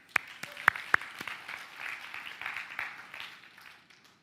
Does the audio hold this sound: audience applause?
yes